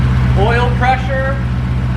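A C5 Corvette drift car's engine idles with a freshly installed oil pump, giving a steady low rumble that runs under a voice speaking over it.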